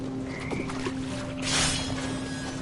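Toads croaking in a dark, echoing space, a steady low drone running throughout with scattered croaks and a brief louder wash of noise midway; no one speaks.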